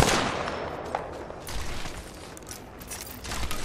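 Gunfire in the Apex Legends shooter game, a dense string of sharp rapid shots and mechanical clatter, moderately loud and continuous through the whole stretch with no talk.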